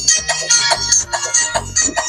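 A mobile phone ringtone plays loud and close in a village home, a bright repeating electronic melody pulsing in short bursts roughly every half second, with no talk over it.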